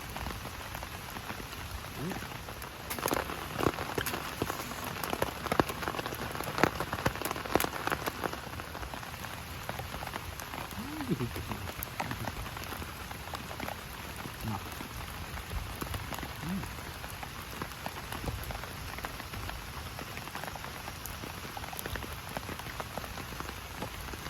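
Heavy rain pours at a solo camp, drumming steadily on nearby surfaces in a dense, continuous patter that swells slightly early on and then holds even throughout.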